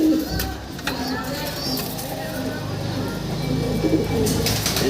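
Several pigeons in a cage coo in low, throaty bursts close by, with rustling and faint background voices mixed in.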